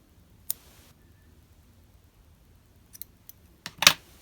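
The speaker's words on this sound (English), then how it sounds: "then you can cut your yarn" Scissors cutting yarn for an amigurumi snowman, a few crisp close snips spread apart in a quiet room, the last one louder with a brief double cut.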